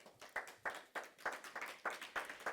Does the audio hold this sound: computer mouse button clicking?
no